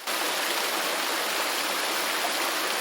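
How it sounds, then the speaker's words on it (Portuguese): Iguaçu Falls, a vast system of 275 waterfalls stretching nearly 3 kilometres, pours out a dense, unbroken roar of rushing water that stays steady and loud throughout with no pauses. "do Iguaçu são um sistema colossal de 275 quedas d'água, que se estendem por quase 3 quilômetros, criando uma cortina de espuma e trovão"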